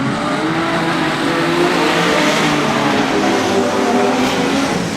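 Production sedan race cars roaring off the start at Moora Speedway in an Australian title heat, a loud, dense, continuous engine drone from the pack with rising revs and no break.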